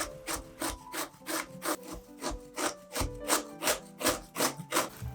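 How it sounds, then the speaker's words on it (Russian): A medium zucchini is grated on a coarse grater in a home kitchen, giving close, rhythmic rasping strokes, about two to three per second, steady and alone with no talk. "и тру на крупной терке."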